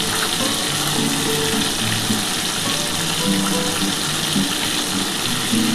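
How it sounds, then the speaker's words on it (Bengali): Tilapia fish fries in hot oil with a dense, continuous crackle and hiss that stays loud and steady throughout, with no voices. "আমার মনে হচ্ছে মাছটা হয়ে গেছে ভাজা, আমি এবার তুলে নিচ্ছি"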